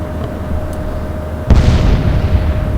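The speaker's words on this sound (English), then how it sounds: "Lovely, another lovely secondary explosion" A ship blows up in a secondary explosion in the naval game Atlantic Fleet, a sudden heavy boom cutting through a low rumbling background and then trailing off into a sustained roar.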